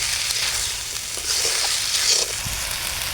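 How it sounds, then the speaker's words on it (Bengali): Rice being dry-roasted and stirred continuously in hot oil, a steady broadband sizzle with faint scraping of the stirring, close and even throughout with no talk. "এবার চালটা ভালোভাবে নেড়ে চেড়ে দিচ্ছি।"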